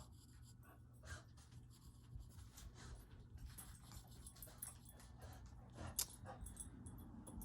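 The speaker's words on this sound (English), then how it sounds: "Now that the dogs are finished with their afternoon yelling" Dogs whimper, whine and pant softly at a distance in a quiet room, with light scratchy drawing sounds running through.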